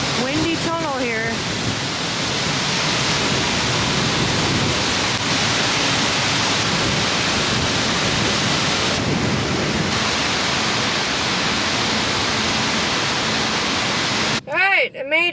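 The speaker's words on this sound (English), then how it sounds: "Windy tunnel here." Wind blows steadily through a tunnel as a loud, continuous broadband roar for most of the clip, with brief speech at the start and end.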